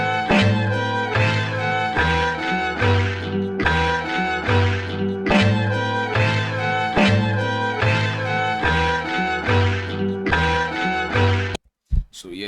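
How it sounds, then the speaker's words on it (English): An FL Studio beat sample pitched down with a half-time effect plays as a steady, loud looping groove of deep bass hits and harmonic chords, cutting out briefly near the end before a final low thump. "and then first of all I added a half time to it"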